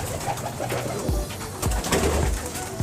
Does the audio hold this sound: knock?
no